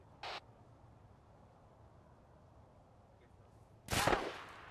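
Gunfire in a Falklands war video game: two sharp reports, a short one near the start and a louder, longer blast near the end, with a faint crack between them over low background rumble.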